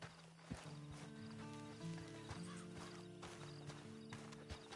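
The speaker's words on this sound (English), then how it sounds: "And you better get on this horse." Horse hooves clip-clop steadily in a period drama scene, a rhythmic series of sharp knocks mixed with creaking tack and a whinny-like tone, set against a dense, musical background.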